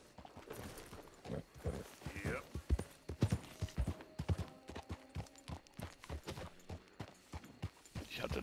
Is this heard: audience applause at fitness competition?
no